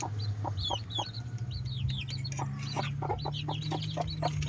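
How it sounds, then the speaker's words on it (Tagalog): Abuhin hen clucking softly among her newly hatched chicks from a clutch of eight eggs, repeated low clucks mixed with many high, rapid peeping chirps from the chicks, set over a constant low hum. "namisa na yung abuin hen natin na pinakita ko sa inyo dati na naglilimlim"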